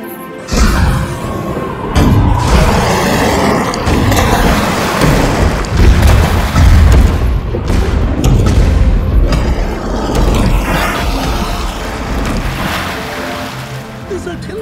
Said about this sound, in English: This artillery thing is new to us.